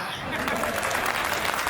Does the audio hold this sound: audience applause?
yes